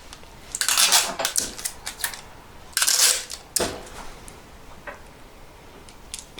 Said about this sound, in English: So now I just roll it up as tight as I can without that in.